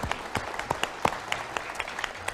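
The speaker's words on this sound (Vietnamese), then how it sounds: "Chúng ta có tràng pháo tay để chúc mừng Giáng sinh tới Đức Cha" Applause from a small group at a Christmas Mass at a Catholic center in Orange, California, irregular claps spread across the clip at a moderate level, with no talking over it.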